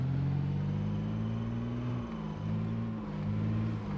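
A car engine in a video game revs loudly, a dense low rumbling roar that holds steady with slight dips in pitch, close and continuous without any voice.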